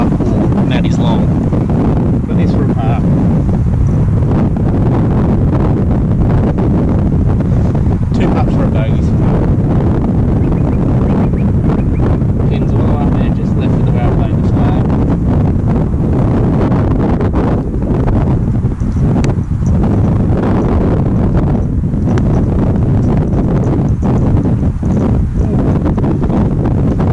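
Gusty wind buffets the microphone on a golf course, a steady low roar lasting throughout, with a person talking over it.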